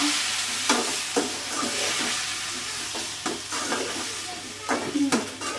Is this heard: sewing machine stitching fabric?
no